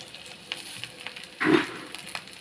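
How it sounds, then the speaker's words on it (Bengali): Puffed rice and curry leaves frying in a pan give a low crackle, with one brief louder burst of sizzling in the middle and light scraping around it. "দিয়ে দিচ্ছি কারি পাতা, দিয়ে দিচ্ছি মুড়ি।"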